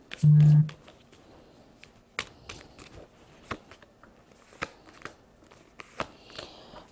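Playing cards being shuffled and flicked, a series of sharp, irregular snaps and riffles close by, with a muffled bump at the start.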